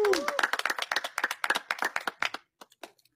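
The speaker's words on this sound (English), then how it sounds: "a round of applause for that" A small wedding crowd bursts into brisk clapping that thins out into a few scattered claps over about three seconds. A voice is briefly heard at the start.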